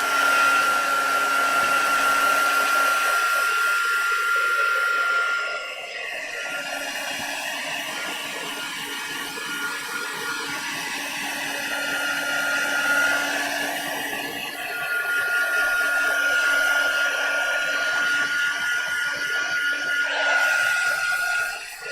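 Hair dryer blowing on dyed junk journal material, a steady whining hum with a faint high tone that dips and swells as the dryer moves, close and continuous for about twenty seconds.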